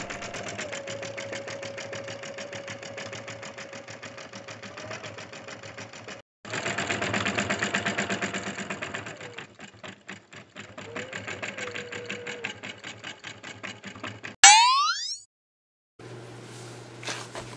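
A 24-year-old embroidery machine, barely used and freshly oiled, runs alone in a steady rapid needle clatter for about fourteen seconds, briefly pausing once, then stops with a sharp mechanical sound before faint stitching resumes.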